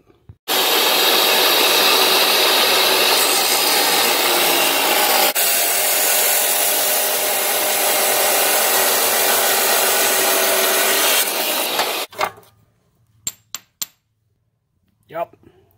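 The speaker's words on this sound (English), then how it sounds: "So, cut socket in half." Power tool cutting a metal socket in half, a loud steady grinding screech lasting about twelve seconds, then abrupt silence broken by a few brief clanks.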